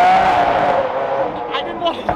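A supercharged Porsche 911 964 Safari engine revs hard to burn off residual oil, starting loud and close with a high whine, then falling away into a few sharper blips.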